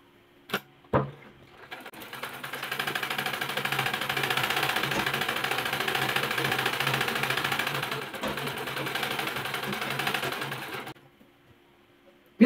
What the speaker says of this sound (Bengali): এই কাপড়টাই আমি সেলাই তোমাদের দেখাবো।